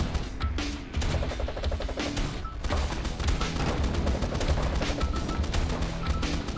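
Rapid automatic weapon fire from a Gatling gun and railgun in the video game Swarm Grinder, a dense continuous barrage of shots and impacts that stays loud and busy throughout.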